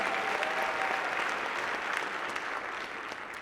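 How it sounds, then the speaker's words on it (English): A crowd at the 2025 Manhattan State of the Borough address gives Mary Tong sustained, dense applause that holds steady and eases off slightly at the end. "Please give Mary Tong a big round of applause."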